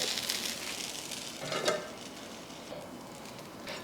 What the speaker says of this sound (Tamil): நான் வந்து தேங்காய் எண்ணெய் தான் ஊற்றுறேன்